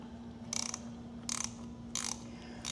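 A ratchet wrench loosening 10 mm bolts on a car engine during a teardown, three short bursts of rapid clicking separated by pauses, close and clear over a faint steady hum.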